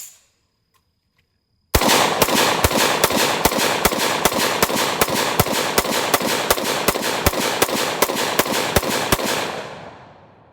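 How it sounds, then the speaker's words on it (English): An AR-15 fires 20 rounds of .223 loaded with modern smokeless powder in a steady rapid string of loud, sharp cracks. The shots are evenly spaced over about eight seconds, with a short quiet lead-in before and a fading ring after. "Okay, that was 20 rounds, and it ran flawlessly."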